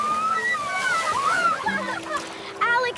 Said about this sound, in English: you splashed them!